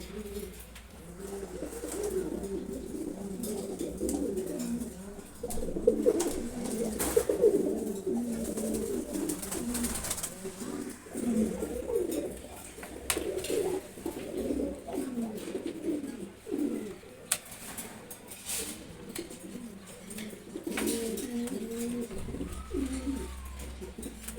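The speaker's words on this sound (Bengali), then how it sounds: "গিয়াচল্লি নর কবুতর খুবই অ্যাক্টিভ একটা কবুতর" Repeated soft, throaty coos of a male ghiya chulli pigeon in rhythmic bursts, close by, with faint background noise between calls.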